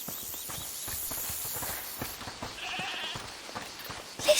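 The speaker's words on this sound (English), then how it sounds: "Is that the goat you talked about?" A goat bleats from inside a locked house in the video game A Plague Tale, a few faint cries over clopping footsteps and a dim ambient background, with a brief louder sound at the end.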